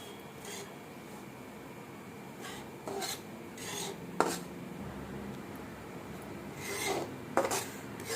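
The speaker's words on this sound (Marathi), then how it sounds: "हा रवा सोनेरी रंग होईपर्यंत भाजायचा आणि असं हलवत राहायचं" Semolina for upma roasts in a pan while a spoon stirs it, making intermittent scraping rasps and light clinks against the metal over a low background, with no talking.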